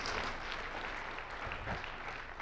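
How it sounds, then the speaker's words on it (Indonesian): A church congregation claps together in a continuous, dense patter of many hands, heard alone without talk and fairly even in loudness throughout. "Tepuk tangan buat Tuhan kita yang luar biasa."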